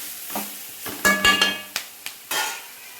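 Scattered crackles and pops of drumstick leaf chutney ingredients frying in a pan, with a few sharp sizzling bursts and soft stirring scrapes, fairly quiet.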